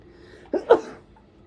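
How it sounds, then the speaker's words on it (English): A single close, sharp sneeze bursts out of near silence, with a short breathy release trailing after it. "I have to sneeze."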